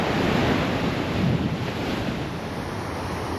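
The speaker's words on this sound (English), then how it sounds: "It's fun to watch the waves crash against the Anastasia rock formations here." Ocean waves crash against Anastasia rock formations at Blowing Rock, Jupiter, Florida, at high tide: a continuous loud roar of surf with steady wind noise on the microphone throughout, no voices.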